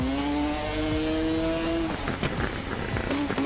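A two-stroke racing motorcycle at speed on an Isle of Man TT lap in a racing game, a high whining engine note that climbs steadily, then breaks off into rapid shifts and bursts of revving.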